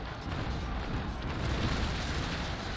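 Cannon fire from a sailing warship's deck guns in the Naval Action game, a rolling broadside of low booms blending into a continuous rumble over about three seconds, loud and dense with no clear gaps.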